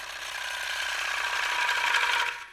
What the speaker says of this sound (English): I'll show you using a bowl gouge. I go down through it, I make a cut